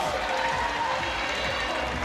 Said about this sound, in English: Crowd reacts.